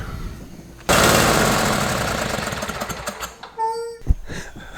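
Small engine on a zero-turn lawn mower catching and then running with a loud, rough, rattling roar that slowly settles, with a brief beep and clunk near the end.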